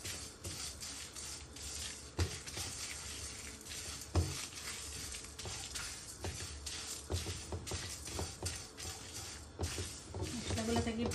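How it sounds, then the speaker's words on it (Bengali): Spices frying in a pan over medium-to-low heat give a steady soft sizzle, broken by repeated scrapes and clinks of stirring, with a person talking over it. "মশলাগুলো থেকে একটু সময় প্রপারলি ভাজা হয়েছে না, লো হিটে, মিডিয়াম টু লো হিটে"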